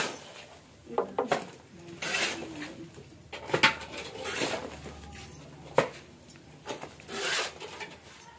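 A mason plastering a village house wall, with scraping, rubbing trowel strokes and soft knocks repeating irregularly at close range, with no talk over them.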